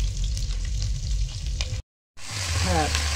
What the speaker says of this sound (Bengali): মাছের ঝোলের সমস্ত ফোড়ন দিয়ে এই যে কি দিলা, এই যে জিরে দিলাম, ধনে পাতা, টমেটো দিলাম, আর শুকনো লঙ্কা দিলাম, আদা।